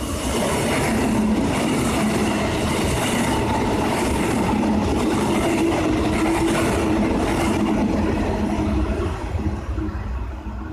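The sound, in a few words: Nambour train passing on rails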